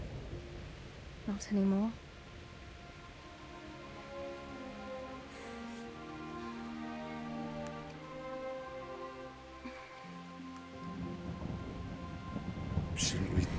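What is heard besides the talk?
thunderstorm with rain in video game Kingdom Come: Deliverance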